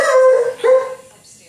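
A single dog lets out two loud, drawn-out howling barks in quick succession, close by, with no talking over it.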